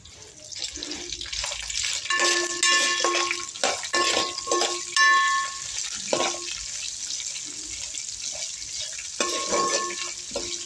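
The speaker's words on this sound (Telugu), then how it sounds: "4-5 పచ్చిమిరపకాయలు, ఎల్లిపాయలు, కాస్తంత జీలకర్ర, కాస్తంత చింతపండు, ఉల్లిపాయలు బాగా వేగనివ్వాలండి" Green chillies, garlic, cumin, tamarind, chana dal and onions fry in a pan with a soft continuous sizzle, interrupted by stirring scrapes and occasional clinks of a utensil.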